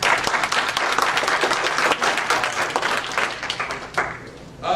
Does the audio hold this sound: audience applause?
yes